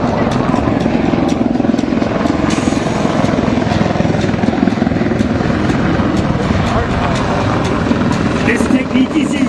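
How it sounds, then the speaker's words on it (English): A UH-1 Huey helicopter approaching over the battlefield display at the 2010 MCAS Miramar airshow, its rotor chop and engine roar loud and continuous throughout, with an announcer's voice over the PA. "You will see one UH-1 Yankee Huey. It is approaching the battlefield in a few short seconds."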